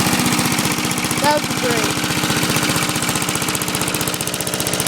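Sensation walk-behind lawn mower engine running close by, a loud rapid chugging pulse that stays steady throughout, with someone speaking briefly over it.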